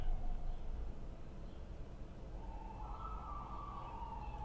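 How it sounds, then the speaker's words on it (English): Emergency vehicle sirens wail faintly from outside, a distant rising and falling tone over a low rumbling background, with no talking. "And then you hear the sirens again."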